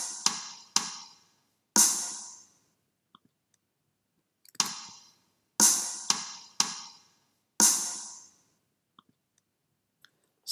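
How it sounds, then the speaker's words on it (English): A sparse drum beat for a song: bright, crisp hits with short decays, scattered irregularly with long silences between them, fairly quiet and with no talk. "And that drum beat sounds like this."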